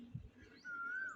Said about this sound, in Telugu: మా ఇంటి దగ్గర అలా పక్షులు అరుస్తూనే ఉంటాయి